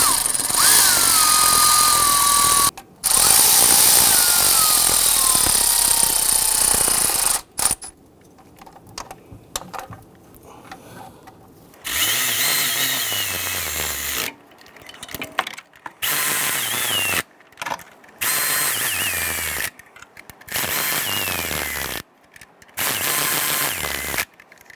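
A ratchet runs down the valve cover bolts on a Toyota Tundra in quick repeated bursts of rapid clicking, with short pauses between bolts, close and loud, no talking.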